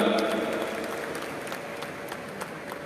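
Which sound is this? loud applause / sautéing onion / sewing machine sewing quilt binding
loud applause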